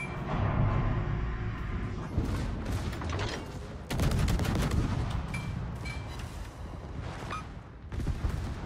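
USS Colorado's naval guns in World of Warships boom in heavy, rolling salvos, loud blasts with long rumbling tails and sharper cracks layered over one another.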